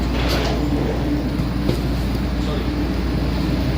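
Interior of a stopped train on a homeward journey after Umrah, with a steady low rumble and broadband hum filling the carriage, a brief knock near the middle, and faint voices underneath.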